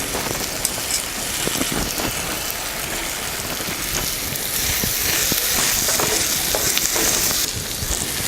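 Sliced beetroot sautéing in a pan for biryani, a steady rain-like sizzle with scattered scraping and tapping of a spoon, moderately loud and without talking.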